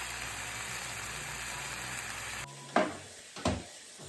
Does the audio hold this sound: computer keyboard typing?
no